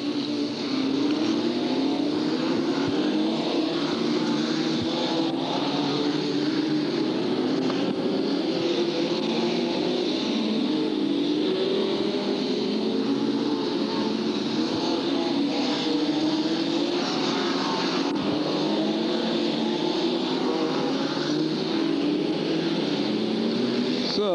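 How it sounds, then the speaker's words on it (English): Formula 2 race cars pack together at Hartlepool in 1993 for a consolation race, their engines rising and falling in a constant, fairly distant roar that blurs into one continuous wash. "we've got a big mass of cars now in the Consolation event here at Hartlepool for the Formula 2 semi-final meeting"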